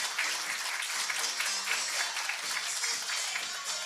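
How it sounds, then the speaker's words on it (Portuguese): A conference audience at the Corporate Startup Summit 2017 in Brazil claps to welcome speakers onto the stage, a dense, steady burst of many hands applauding throughout. "Seja bem-vindo ao palco, uma salva de palmas."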